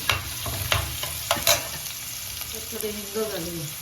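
Onions sautéed in a pan for a clam curry, a close, steady sizzle broken by sharp crackles and stirring scrapes, with a faint low tonal sound near the end.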